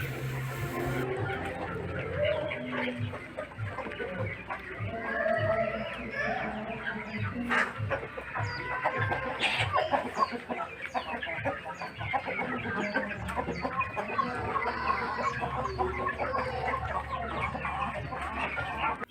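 Chickens cluck steadily on a family poultry farm, a dense chorus of hens close by with an occasional rooster crow mixed in, continuing throughout with little else.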